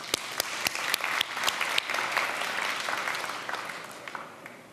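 Audience applause at the Slush 2011 event after a musical saw rendition of the Nokia Tune, a steady wash of clapping with a few sharp, close claps standing out, fading slightly toward the end.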